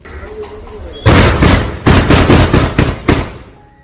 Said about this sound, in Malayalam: അതെടുത്ത് അതിനകത്തേക്ക് വെക്കുമ്പോഴത്തേക്ക് വെടി വരും.